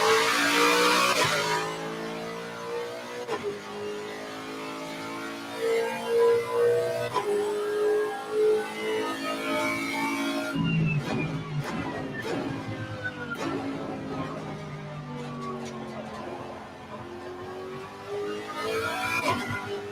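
A race car in Assetto Corsa Competizione revs and shifts through a lap, the engine note rising and falling in repeated sweeps with a brief cut midway, steady and moderately loud.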